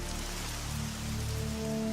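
Rain effect standing in for methane rain falling on Saturn's moon Titan: a steady, dense patter of drops on a surface, constant and fairly loud throughout with a low hum beneath, no voices.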